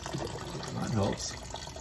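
Liquid drains slowly from a 1946 Dodge pickup barn find, a brief soft trickle and gurgle over a low background noise, close by.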